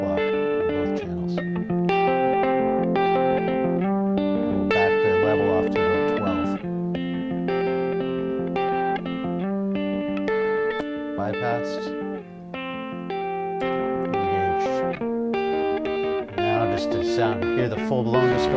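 Electric guitar played through a Radial Space Heater drive pedal with the drive set near 3 o'clock on both channels, giving a thick, saturated overdriven tone of sustained chords and notes, loud and continuous throughout.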